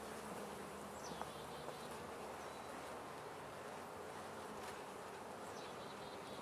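Honey bees buzz densely and continuously around a swarm hive outdoors, a steady, fairly faint drone with individual bees passing close now and then and no talking.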